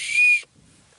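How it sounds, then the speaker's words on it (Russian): A small toy whistle gives one short, shrill, steady blast lasting under half a second, loud and close, then cuts off abruptly into near silence. "Эта свистулька рабочая."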